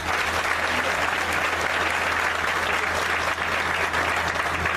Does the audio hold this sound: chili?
no